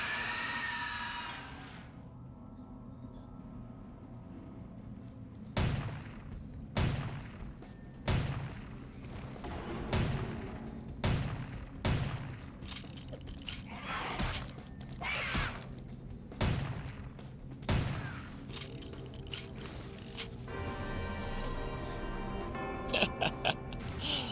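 A gun fires in Vampire: The Masquerade - Bloodlines. About a dozen sharp, loud shots ring out at an uneven pace after a quiet start, over a low background hum and scattered game noise.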